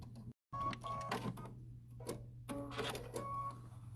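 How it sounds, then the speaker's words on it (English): A home sewing machine stitches across the corners of a quilted fabric placemat, giving a steady motor hum with busy rattling stitch bursts and one brief silent pause near the start. "I'm going to stitch along these 4 corners"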